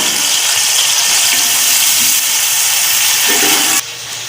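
Chopped onions dropped into hot ghee for matar chicken pulao sizzle loudly and steadily, a dense continuous hiss close up that stays constant before cutting to a slightly softer level near the end.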